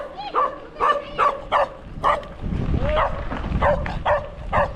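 Dogs bark at passing cyclists on a ride from Butwal to Sainamaina park, sharp repeated barks and yips in quick bursts, with a whimpering tone between them and rough noise in the background.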